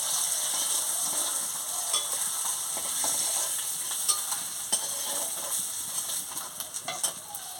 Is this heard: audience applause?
no